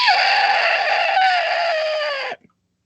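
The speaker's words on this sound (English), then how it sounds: "As you walk and stand next to Strike, you hear the screeching sound again." A creature lets out one long, loud, harsh screech, a strained rooster-like cry held for over two seconds before breaking off abruptly into silence.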